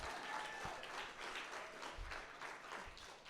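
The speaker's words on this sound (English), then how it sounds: "Let's go ahead and give them a dedicated round of applause, too." Audience applause at a live author interview event, a steady wash of many hands clapping at moderate distance, sustained throughout with no talk over it.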